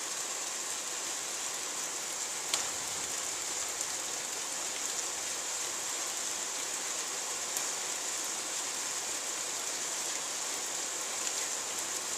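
Heavy rain pours steadily during a violent summer thunderstorm in Carpentras, a dense, even hiss of drops on surfaces that continues without pause, with no voices.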